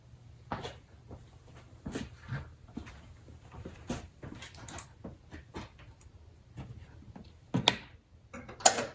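A wrench tightens a 10 mm bolt on the cold air intake of a 2023 Dodge Durango R/T: quiet, irregular ratcheting clicks and metallic taps close by, with no talk.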